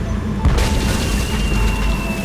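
A deep boom of cannon fire bursts out early in Tales of Monkey Island, then a low rumble and noisy crackle linger amid game sound effects.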